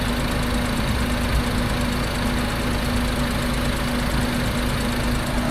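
A car engine idles steadily and evenly for several seconds while the system is bled, close by, with a constant low drone and slight mechanical knocking.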